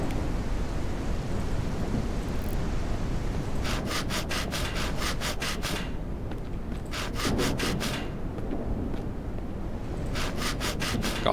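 Rain and thunder in the survival video game Mist Survival: a continuous heavy rumbling wash of rain with low thunder, overlaid by bursts of rhythmic scraping strokes like sawing, loud and close, with no voices.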